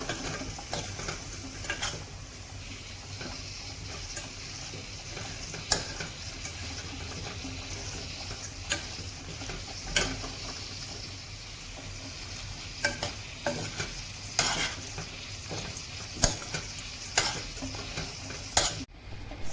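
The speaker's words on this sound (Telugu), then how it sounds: "ఉడికిపోయిన తర్వాత దీంట్లోకి మనకి సరిపడినంత బెల్లం వేసుకుని ఈ బెల్లాన్ని అయితే బాగా దగ్గరికి పాకం కింద వచ్చేదాకా అయితే దీన్ని అయితే ఉడికించుకోవాలి" Vermicelli simmers with jaggery in a pan, a soft steady bubbling sizzle broken by intermittent light clicks and scrapes of stirring, quiet and close throughout with no talk.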